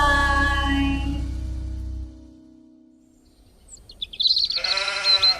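A sheep gives a clear, close bleat near the end, after a stretch of music that fades into near silence.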